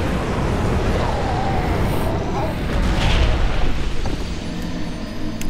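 The Ancient Dragon unleashes a fire attack in Dark Souls 2, a dense, continuous roaring rumble of flames that swells louder midway through and fills the whole stretch.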